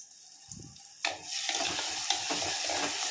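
Onions and tomatoes fry in a pan for a Tamil kuzhambu while a spoon stirs them, a close, steady sizzle that swells suddenly after a short lull, punctuated by rhythmic scraping strokes.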